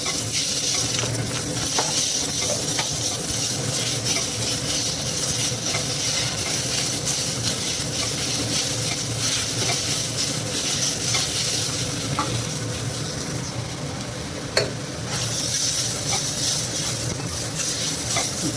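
Tomatoes sizzle and fry in a hot pan for tomato rice, a loud continuous hiss with stirring and scraping throughout and no talking.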